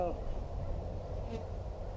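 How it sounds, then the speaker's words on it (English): A steady insect buzz hums throughout, like a mass of bees close by, continuous and fairly loud with no clear pauses. "these bees are a bit hostile"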